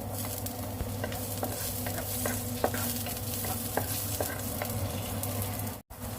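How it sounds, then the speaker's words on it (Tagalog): Garlic sautés in olive oil for a Filipino patola and misua dish, giving a steady close sizzle with light scraping stirs and small pops throughout, no talking. "Igisa na natin ang bawang."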